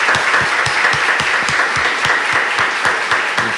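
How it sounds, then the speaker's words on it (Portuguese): A church congregation at Sunday Mass claps warmly, dense sustained applause from many hands filling the whole moment, loud and even throughout. "uma calorosa salva de palmas"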